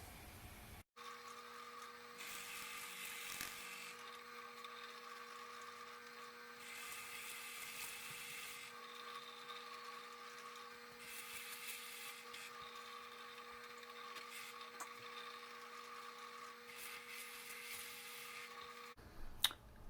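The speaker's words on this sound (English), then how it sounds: "And I'll meet you back at the drill press." A drill press bores into wood to hog out a bolt-on guitar neck pocket, giving a steady, fairly loud whine with bursts of brighter cutting noise as the bit plunges repeatedly, and no talking.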